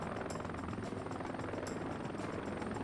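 A helicopter flies in the military game Heliborne, rotor thumping in a fast continuous throb with a loud engine whine, close and unbroken.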